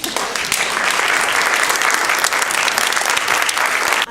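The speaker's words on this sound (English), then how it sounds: "And one more time, round of applause." An audience at an education film event claps loudly and steadily for a few seconds, dense continuous applause from a large crowd in a hall.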